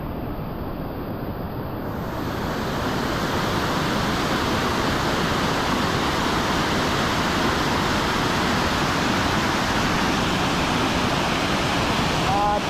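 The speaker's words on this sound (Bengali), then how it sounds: "এই হলো ঝর্ণাটা।" Broad, steady rushing of a small waterfall among a series of falls at Mainpat, Chhattisgarh, heard as a continuous even roar from a moderate distance with no speech.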